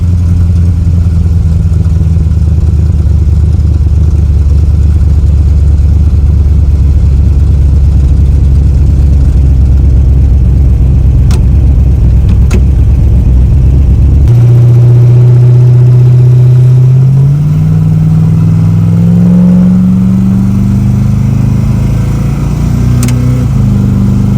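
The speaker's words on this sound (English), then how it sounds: "when I do the full loop and I come back to the house and I let the truck idle" A no-prep racing truck with new spark plugs idles close by, a loud, steady low rumble whose pitch shifts partway through and then wavers slightly as the revs settle.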